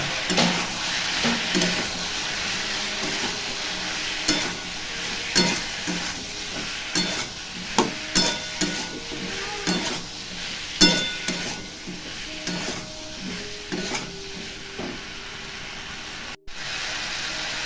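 Ginger paste and cumin powder fry in a pan with a steady soft sizzle, punctuated by frequent clinks and scrapes of a spatula stirring, heard up close with no talking.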